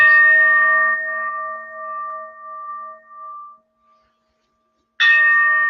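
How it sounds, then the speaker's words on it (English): A clear meditation bell rings and its pure tone slowly fades into silence, then a second strike rings out, bright and close. "let us melt away with the sound of the bells"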